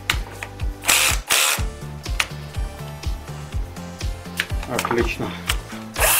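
Cordless drill fitted with an upgraded battery runs with a strong motor whine while its clutch ratchet clicks in quick repeated bursts, close by, with a brief spoken word over it.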